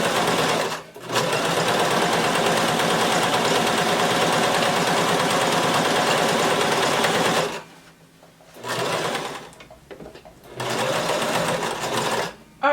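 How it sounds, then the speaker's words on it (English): A sewing machine stitches a skirt seam with a loud, fast, steady mechanical whir that runs for long stretches, breaks off twice briefly, then restarts near the end. "So I'm going to lower my needle to start sewing and back stitch"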